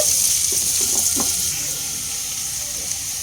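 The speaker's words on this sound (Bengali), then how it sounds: "দু মিনিট একটু ভাজা ভাজা হতে দেব" A steady, loud sizzle of onions frying in a pan fills the clip, with a few faint clinks early on and no voices.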